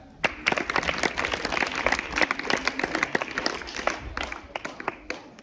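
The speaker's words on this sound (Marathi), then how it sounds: "टाळ्या" An audience applauds after a quiz answer at a school or public talk, a dense crowd clapping with sharp individual claps standing out, steady through the clip and tapering slightly toward the end.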